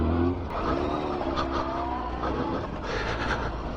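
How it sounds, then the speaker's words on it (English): An older motorbike engine sputters unevenly while being ridden, a steady rumble with wind and road noise and slight irregular dips, continuous and close throughout. "I can feel the bike kind of spluttering a little bit."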